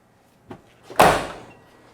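Door of a 1984 Chevrolet K10 short-bed 4x4 truck on the passenger side, with a light click of the latch followed by one solid shut that fades over a second.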